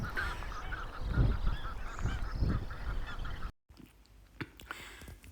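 Geese and other waterfowl honk repeatedly on a lake in Berwick, Melbourne, with loud, close calls in an irregular rhythm before the scene cuts to quieter outdoor ambience with only occasional distant calls.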